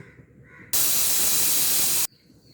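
A kitchen pressure cooker cooking greens lets out one sharp, loud blast of hissing steam lasting over a second, cutting off abruptly against a quiet background.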